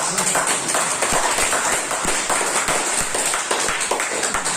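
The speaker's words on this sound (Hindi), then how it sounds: "उनके लिए एक बार जोरदार तालियां होनी चाहिए" Loud applause from a seminar audience, dense continuous clapping that holds steady throughout.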